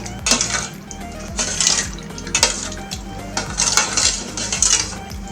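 A spoon stirs a yeast mixture in a bowl for eggless doughnut dough, making a string of bright metallic scrapes and clinks against the bowl in uneven bursts, close and alone.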